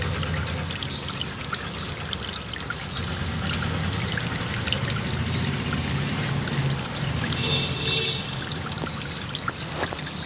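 Plain cool tap water runs steadily and close by while a face is rubbed and washed, a continuous trickling stream with no talking over it.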